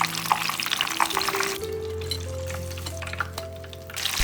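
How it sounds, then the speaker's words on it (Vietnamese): Battered minced meat deep-frying in oil over medium heat makes soft, continuous sizzling and bubbling, fairly quiet and close, with faint clinks and stirring noises now and then. "Mình chiên trên lửa vừa đâu đó khoảng tầm 5-6 phút, cho tới khi lên màu vàng đẹp như vậy thì vớt ra."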